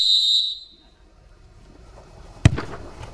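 Sharp referee whistle blast in a PES football video game, a short bright shrill note at the start, followed later by a brief thud and faint background noise.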